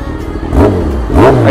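A Kawasaki ZX-10R motorcycle revs its exhaust twice in quick succession, each blip rising sharply and loud at close range before settling back to idle.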